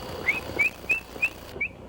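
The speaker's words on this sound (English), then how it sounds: "the old whistle always works" Five short, rising whistles at an even pace while deer hunting, fairly clear and close, over a faint outdoor background.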